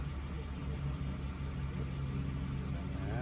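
An AirLift 1000 air suspension on a 2004 Honda Odyssey is being inflated, giving a steady, unbroken mechanical hum that drones evenly for the whole stretch.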